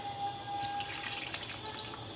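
Hot water running and splashing steadily into a potato baking tray, a soft continuous pour with faint drips, close by and without talk.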